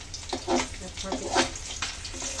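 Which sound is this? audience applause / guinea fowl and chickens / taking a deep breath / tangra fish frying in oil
tangra fish frying in oil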